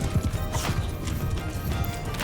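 Horses galloping across a battlefield in the video game Mount & Blade II: Bannerlord, with horse archers riding about; a steady run of rapid hoof clatter with a brief whinny, fairly loud and continuous.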